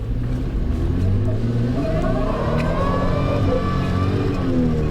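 A modified Toyota Tacoma pickup accelerates on a test drive, its engine rumbling loudly from inside the cab with rising, shifting revs that climb steadily and stay close throughout.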